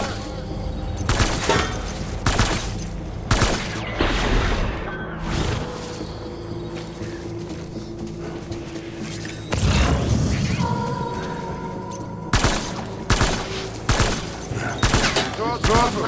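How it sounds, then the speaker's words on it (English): Dense gunfire fills a Death Stranding battle as rapid automatic bursts and heavy booming impacts come in repeated loud volleys, with brief pauses between them. "Taking fire!"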